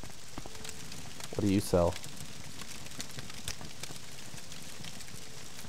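Rain in the video game Morrowind falls as a steady soft patter, continuous and fairly faint, while a short burst of speech cuts in partway through.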